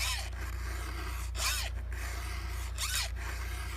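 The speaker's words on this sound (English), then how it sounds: "if you take a round file and just file that like you was going to sharpen it" A round hand file sharpens a chainsaw chain in three distinct rasping strokes, each a short scraping pull, close up over a steady low background hum.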